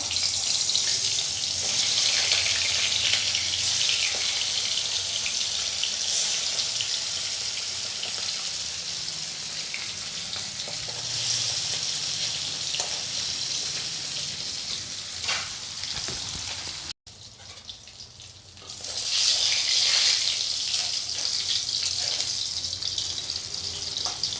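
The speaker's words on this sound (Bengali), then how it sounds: "তেল তো গরম হয়ে গেছে মাছ ছেড়ে দিচ্ছি" Small charapona fish fry in hot oil with a loud, continuous hissing sizzle close up. It dips briefly once and then flares back up strongly.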